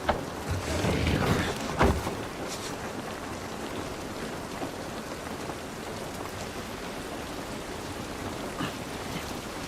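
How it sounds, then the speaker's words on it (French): Steady rainfall patters on surfaces in a video game scene, a dense even hiss that swells briefly near the start, with no voices. "Cette pluie ne va pas nous aider."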